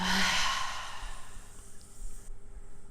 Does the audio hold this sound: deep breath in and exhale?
yes